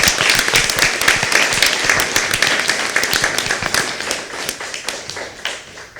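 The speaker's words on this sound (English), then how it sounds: "let's first give this fine gentleman another round of applause" Applause breaks out at a city council meeting for an honored gentleman, a close, crisp patter of many hands clapping steadily for several seconds before tapering off.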